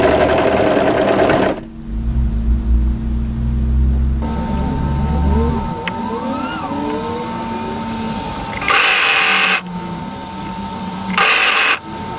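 A sewing machine stitches the armhole seam of a midi-length draped dress in short, steady bursts of close, loud mechanical whirring, with brief pauses between runs and no talking.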